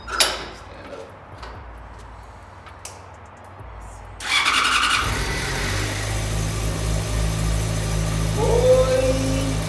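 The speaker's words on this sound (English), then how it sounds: "the bike's on. The bike's working." A motorcycle engine cranks and catches after several quiet seconds, then keeps running loudly and steadily close by, with a rising whine near the end; brief voices are heard before it fires.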